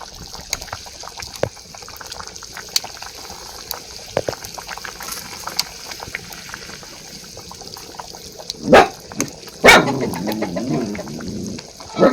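Steady low bubbling of water boiling in a pot as items are added one by one, with a few louder splashes and clatters near the end.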